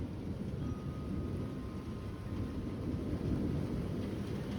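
A thunderstorm with hail rumbles overhead, a deep continuous roll of thunder over steady rain noise, fairly loud and without speech.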